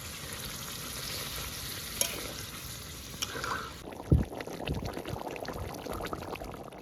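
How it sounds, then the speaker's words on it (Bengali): A little water is poured into a well-fried curry in a pan, turning a steady background sizzle into a burst of bubbling with a sharp clink and continued crackling, and no speech. "ভালোভাবে কষানো হয়ে গেছে এখন আমি জল দিয়ে দেবো অল্প জল দিলাম"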